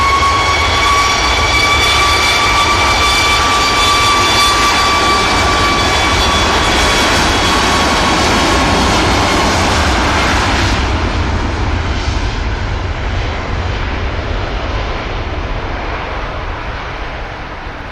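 Jet airliner taking off from Manchester Airport bound for Egypt: a loud, close engine roar with whining tonal lines that fade as the aircraft climbs away, the rumble slowly softening toward the end.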